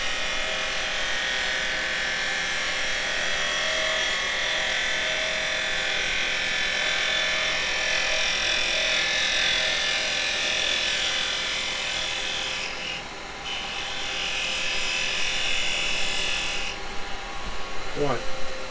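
A carbide chisel cuts a pine plant pot spinning on a woodturning lathe, giving a continuous close scraping, rasping hiss over the motor's hum with no break, briefly dipping twice near the end.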